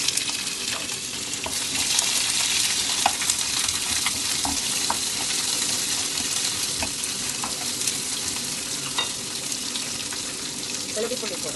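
Garlic sizzles and fries in a hot pan, a steady crackling hiss throughout with occasional stirring clinks, while a voice speaks faintly in the background.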